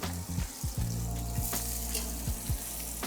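Salmon fillet frying in a pan, a steady sizzle with several sharp knocks and scrapes as the fish is flipped.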